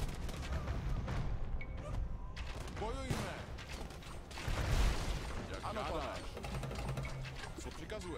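Cannon and gunfire in the strategy video game Against All during a castle assault, irregular booms and crackling shots mixed with mechanical clanks and creaks, with game speech over the battle noise.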